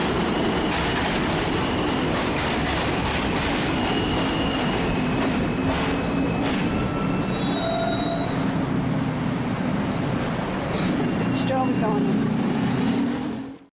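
A New York City subway train rumbling along the tracks, steady loud roar with wheel squeals and rattling clatter throughout, faint voices mixed in.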